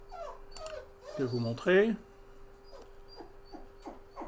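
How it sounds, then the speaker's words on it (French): A dog named Bijou whimpers and yips in high, wavering cries on a rooftop, loudest in the middle and then fading into softer whines, while someone speaks French nearby. "Oui, c'est un chien, c'est pas un voleur."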